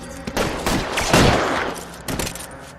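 Gunfire in the video game L.A. Noire, a shootout of several loud, sharp shots in quick bursts with echoing tails over about three seconds.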